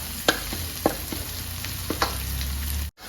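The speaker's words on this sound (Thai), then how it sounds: "ผัดไปจนหอมเลยเนาะ" Garlic and chilies stir-fried in a hot pan give a steady sizzle, with a few sharp scraping stirs of the utensil and a brief dropout near the end; no one speaks.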